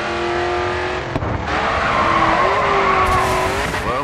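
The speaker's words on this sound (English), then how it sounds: "Continue to turn and the back end will begin to slide out." Car drifting in the Grid 2 racing game, with a loud, sustained tire squeal and engine drone. The pitch wavers as the back end slides through a corner, with a brief break before the slide picks up again.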